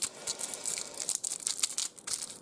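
Close, crinkly plastic packaging being tugged and torn in short bursts, rustling and crackling irregularly as someone struggles to open it.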